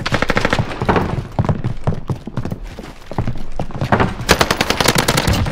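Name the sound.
gunfire in the video game Warzone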